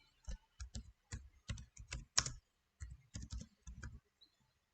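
Keystrokes on a computer keyboard while entering a Docker build command, a steady run of close, crisp taps in short bursts with a brief pause midway, no talking.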